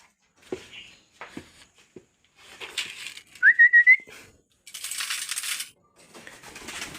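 A person whistles a short series of pulsed calls to bring pigeons home, a bright rising note followed by rapid repeated bursts, among scattered taps, clinks and rustling noise.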